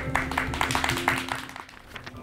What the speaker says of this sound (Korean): 우리 동희 박수로 좀 환영할까요?